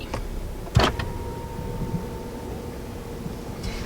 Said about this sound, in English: what you're hearing right now is the rear sunscreen that does roll down as well when you go into reverse